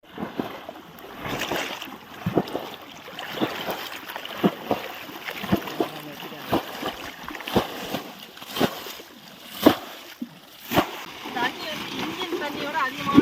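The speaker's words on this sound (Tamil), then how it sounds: "நாங்கள் இறக்கிற தண்ணி அளவுக்கு அதிகமாக வர்றதுனால 4 பக்கமும் உடச்சிட்டு போகுது" Water gushes and splashes out on all sides where earth has been cut away at a deepening pond during hand fishing, with irregular sloshing bursts and splatters that are fairly faint and steady.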